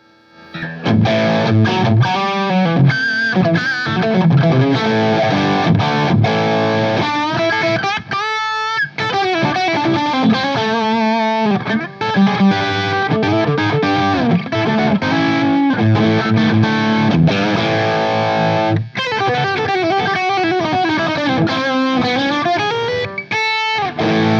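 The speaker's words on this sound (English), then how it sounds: "To me, there's more than enough distortion in this pedal." Heavily distorted electric guitar through a Bogner Ecstasy Mini pedal plays continuously, loud and saturated, with chugging chords and sustained notes that cut out briefly a few times.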